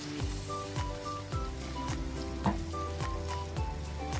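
Clear fish ball soup broth coming to a boil in a pot, a steady bubbling sizzle with regular soft pops and clicks throughout, no voices.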